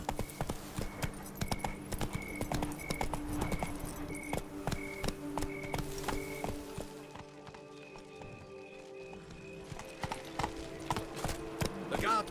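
Horse hooves clip-clopping in The Witcher 3 (Blood and Wine), a clear, regular trot of hoofbeats with light jangling gear, set against soft in-game music and ambience.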